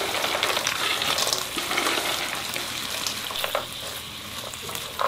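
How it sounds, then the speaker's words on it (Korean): Sweet pumpkin simmering in a syrup of oligosaccharide over medium heat, giving a steady close bubbling sizzle with soft stirring clatter throughout, with no voices. "중간불로 단호박 좀 양념이 쏙 배도록 좀 졸여주세요"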